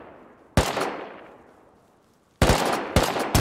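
Video game gunfire comes in three sharp bursts: a single loud crack with a fading tail, then two rapid clusters of shots close together near the end. No speech is heard.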